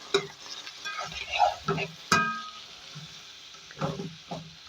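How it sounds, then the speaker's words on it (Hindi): Half a kilo of chicken is stirred in a hot pan, with a low sizzle punctuated by sharp, irregular clacks and scrapes of the spoon against the metal, close up and without talk. "अब चिकन को डालने के बाद इसके अंदर अच्छी तरह करेंगे मिक्स"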